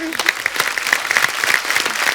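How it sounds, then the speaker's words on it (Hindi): Studio audience at a comedy show bursts into loud, steady applause, dense clapping filling the whole stretch, with a voice briefly heard at the start. "एक बार जोरदार तालियां हो जाए"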